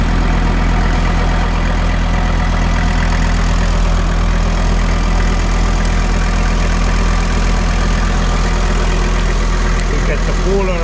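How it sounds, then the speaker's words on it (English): An idling car engine, freshly rebuilt after a two-year overhaul, runs with its cooling fan whirring, a loud, constant steady hum and rumble that is close and unbroken from start to finish. "And we get the fan running, and our thermometer show 54 degrees."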